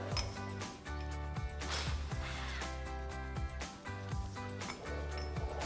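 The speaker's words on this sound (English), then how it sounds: "Now we can take a 15 millimeter swivel socket and remove our brake line bracket" A 15 mm swivel socket on a ratchet removes a brake line bracket from a Jeep Gladiator JT. Close, crisp ratchet clicks and metallic clinks come in quick bursts.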